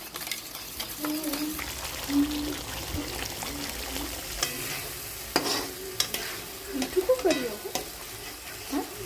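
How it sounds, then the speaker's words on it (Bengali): Sour yogurt whisked with salt and two spoons of sugar in a bowl, heard as close, uneven stirring clicks and scrapes with brief pauses, while a voice murmurs faintly in the background. "পরিমাণ মতো নুন, এটা হচ্ছে টক দই, 2 চামচি চিনি দিয়ে আমি ফেটিয়ে নিচ্ছি।"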